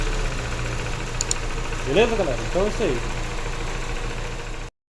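A car engine fitted with a Weber 460 carburetor idles steadily and close by, with a brief rise in revs as the carburetor is adjusted. Someone talks over the running engine.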